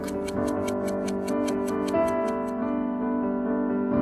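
An old clock ticking: about a dozen crisp, evenly spaced ticks over the first two and a half seconds, then they stop, all under sustained tonal music.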